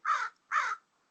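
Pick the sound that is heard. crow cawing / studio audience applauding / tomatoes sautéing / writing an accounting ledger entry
crow cawing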